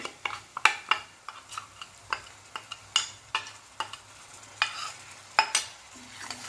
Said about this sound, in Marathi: कांदा आणि अद्रक लसणाची पेस्ट छान भाजत आलेली आहे